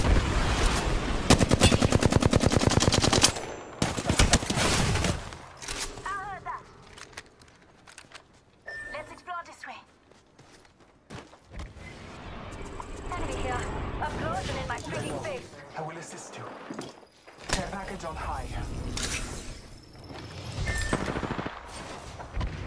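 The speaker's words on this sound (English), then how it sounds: "Shots fired at me." Rapid automatic gunfire in a video game shooter, with loud bursts of shots early, then scattered firing and game effects continuing alongside voiced character lines.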